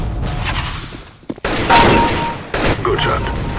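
Gunfire in Counter-Strike: Global Offensive comes as loud, close bursts of shots, separated by brief pauses.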